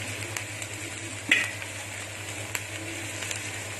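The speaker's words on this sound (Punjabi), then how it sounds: "ਪਰ ਭੁੰਨਣਾ ਆਪਾਂ ਤੇਜ਼ ਆਂਚ ਤੇ ਹੀ ਆ ਸਾਰਾ" Onions frying on high heat in a pan for Punjabi-style chilli chicken, a steady close sizzle with a few sharp scraping knocks as they are stirred; no voices.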